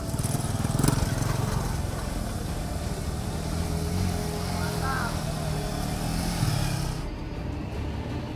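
A motorcycle putters slowly along a muddy village road in Marente, Indonesia, its steady low engine drone running throughout under a speaking voice.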